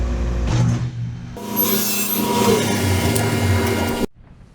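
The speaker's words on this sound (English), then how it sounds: "when we actually put it on the sander, it's going to take out those imperfections" A wooden turkey call box piece is pressed against a power sander, a loud, close, continuous abrasive rubbing and grinding that stops abruptly near the end.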